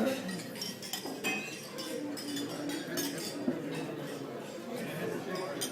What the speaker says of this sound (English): I'd like you all to please raise your glasses.